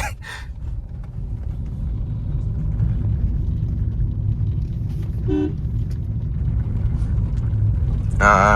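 Steady low road-traffic rumble from passing vehicles near Mancherial, continuous and fairly close, with a couple of short horn toots, one near the end, while someone talks over it.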